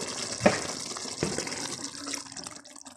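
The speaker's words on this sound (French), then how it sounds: "Et nous allons comme ça rajouter un peu d'eau." Water poured into a simmering pistachio and okra sauce, a close, steady splashing pour with a couple of sharper splashes near the start, tapering off toward the end, no voices.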